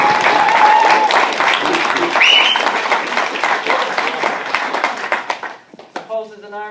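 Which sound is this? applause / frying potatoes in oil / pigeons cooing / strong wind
applause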